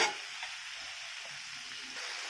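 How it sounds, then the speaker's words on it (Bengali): Tomatoes fry in a pan with a steady, close sizzle and hiss for a fish curry, continuous and even with no talking. "টমেটোটা দিয়ে আমি এটাকে আরেকটু ভালো করে ভেজে নেবো।"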